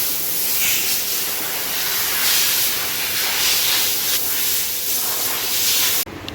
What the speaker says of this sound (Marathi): आता हाय प्रेशरने आता क्लिनिंग चालू आहे